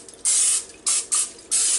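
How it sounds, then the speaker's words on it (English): Oil spray from a can misted over raw chicken wings for a grill, four sharp hissing bursts close by, the first and longest lasting about half a second, the others shorter. "Spray them a little more."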